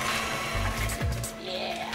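An electric mixer whirs as it beats the sugar mixture for chocolate chip cookies, a close, continuous buzzing motor sound that shifts in pitch briefly partway through.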